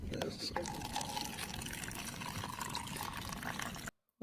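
Water pours near an always-on microphone in a New Hampshire courtroom during a murder trial, a steady liquid trickle and splash running for about four seconds under faint room noise before cutting off.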